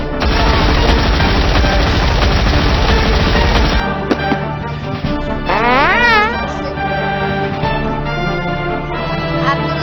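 Rapid, dense gunfire from the Doodieman Voodoo browser game rattles loudly for several seconds, then gives way to game sounds and a rising-falling electronic tone, with a voice talking over the action.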